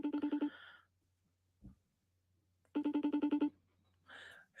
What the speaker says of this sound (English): Let's see if it rings. I'll FaceTime.